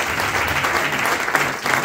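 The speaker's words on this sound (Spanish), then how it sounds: "Den ofrenda de palmas a Dios." A church congregation claps together in steady, dense applause that fills the room close by and continues unbroken.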